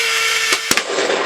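An airsoft tank's electronic cannon sound effect set off by its trigger switch: a steady electronic tone cut by two quick sharp bangs in close succession, short and fairly loud.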